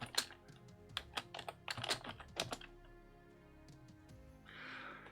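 An AWS command typed on a computer keyboard: a quick burst of crisp, close key clicks in an irregular rhythm, then a pause and a faint soft rustle at the end.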